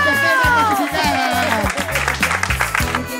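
An audience at a Donas LNB final claps and cheers for a champion, loud and close, running the whole time under an announcer's voice.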